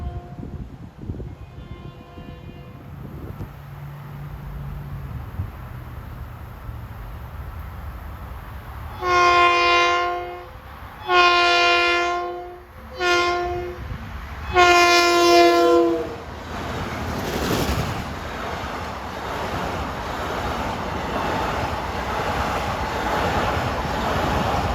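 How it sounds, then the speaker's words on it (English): Long Island Rail Road Ronkonkoma Line train 1960 approaching a grade crossing at Brentwood, sounding four loud horn blasts in a long-short pattern, followed by the rising rumble of the train passing. "Gates are going down at 4:47 for train 1960, Penn Station to Ronkonkoma, approaching Brentwood Station."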